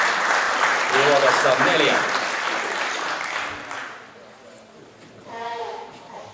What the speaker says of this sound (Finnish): Ja vielä kerran aplodit 6. nopeammalle autokunnalle.